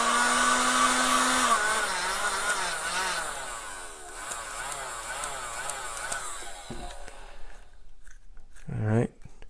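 A heat gun warming a Talon grip onto a handgun during installation, a steady whirring drone that shifts in pitch before cutting off, with brief handling noises afterward.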